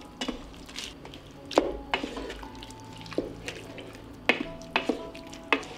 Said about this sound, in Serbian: Sve ću ovo promešati.